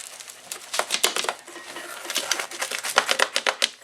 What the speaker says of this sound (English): Now I cut it in quarters.